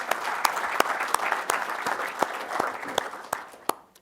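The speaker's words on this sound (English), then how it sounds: "So just a round of applause for our sponsors" A conference audience at a PHP developer event in Australia claps for the sponsors, a steady wash of applause with sharp individual claps standing out, fading toward the end.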